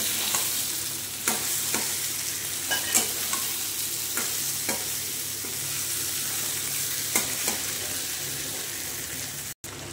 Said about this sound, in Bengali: এবার মাংসগুলো দিয়ে ভালো করে কষে নেব।